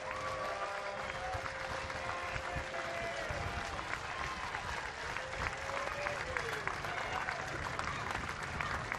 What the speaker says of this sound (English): you hear the crowd starting to get into it with the bases loaded and a 2-strike count